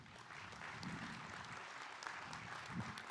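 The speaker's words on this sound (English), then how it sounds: "Please give them a round of applause." A commencement audience claps steadily for a few seconds, a continuous wash of applause at moderate distance.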